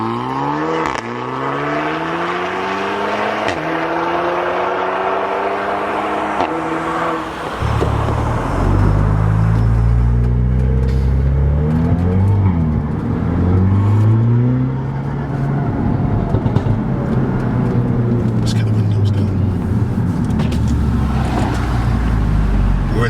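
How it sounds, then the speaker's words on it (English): An APR Stage 3 tuned Audi S3 pulls away from a standstill in a tunnel, its engine revving loud and close through several rising gear pulls, with a sharp shift in tone midway as the exhaust note deepens and keeps building. "we'll cut right now to a clip of the car going from stand, not a launch"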